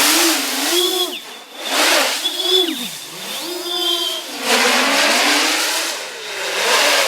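Large iFlight X-Class FPV drone flying line of sight, its motors whining and surging in pitch as it climbs, dives and passes, loud and continuous with swelling and fading passes.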